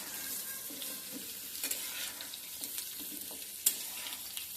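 Pumpkin pieces fry gently over low heat in a pan with kasuri methi, giving a quiet, steady sizzle punctuated by occasional spoon scrapes and taps. No one speaks.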